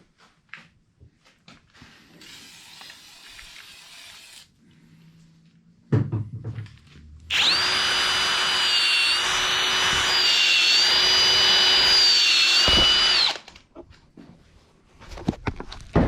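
A drill spinning a Dingleball hone inside an engine cylinder of a 500k-mile junkyard motor, whining loudly and steadily for several seconds after some handling clatter, then stopping.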